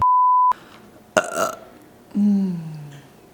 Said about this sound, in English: I had a commenter say that I don't say excuse me when I burp